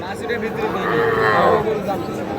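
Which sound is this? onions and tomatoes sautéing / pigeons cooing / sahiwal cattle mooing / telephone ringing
sahiwal cattle mooing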